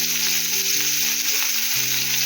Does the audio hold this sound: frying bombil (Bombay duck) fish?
yes